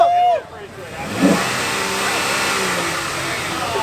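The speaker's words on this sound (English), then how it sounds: "Do a burnout!" A car does a burnout on private property with its engine revving hard into a sustained loud roar, and excited voices shout over it.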